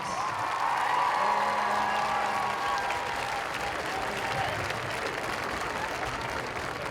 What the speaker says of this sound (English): Let's have a round of applause for our 2022 homecoming chorus.